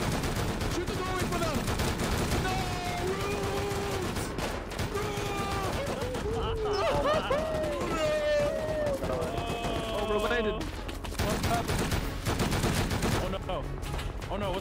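Rapid video-game gunfire in a multiplayer manhunt event, bursts of shots layered under excited, overlapping player voices that continue throughout.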